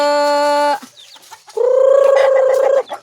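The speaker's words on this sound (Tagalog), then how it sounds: "Lahat yan ang nangingitlog." Laying hens on a farm give two loud, close, drawn-out calls separated by a short gap filled with softer rustling and faint clucks.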